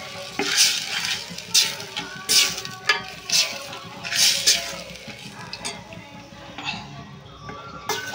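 Green peas curry being stirred in a pan, with repeated scraping and clinking strokes over a soft steady sizzle, fairly close and alone.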